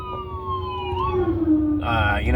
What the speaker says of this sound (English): Sorry, ambulance came by.